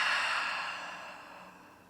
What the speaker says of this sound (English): Take a nice, slow, deep breath. Inhale. Open mouth, exhale.